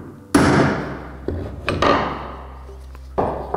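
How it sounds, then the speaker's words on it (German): Metal chisel struck with a hammer to stake the end caps of Vespa silentblock bushings, giving a few sharp, loud clanking blows with ringing decay, spaced irregularly across the moment. "Zum Schluss werden die Kappen an 3 bis 4 Punkten verstemmt. Da bietet sich ein Meißel an"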